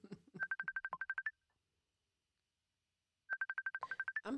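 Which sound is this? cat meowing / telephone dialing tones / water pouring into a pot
telephone dialing tones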